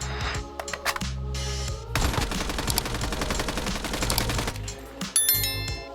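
Gunfire in the Call of Duty Mobile video game comes in bursts of rapid automatic shots, loud and close, with short pauses between volleys and a final cluster of single cracks and metallic clinks.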